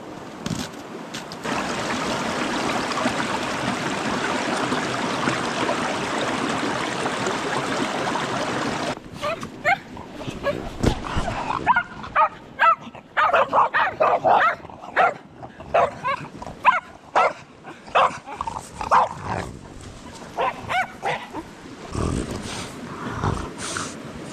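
Several short, sharp dog barks, from a mountain dog, come in irregular bursts after a stretch of steady broadband noise, fairly close and loud, in the snowy Carpathian mountains in February.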